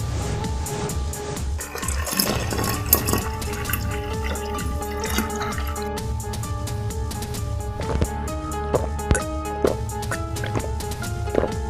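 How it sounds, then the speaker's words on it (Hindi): Bucket drawing water from a village well: splashing, dripping and sloshing water with knocks and clinks, over a steady hum and faint music. "बाल्टी से कुएं का पानी खींचता है।"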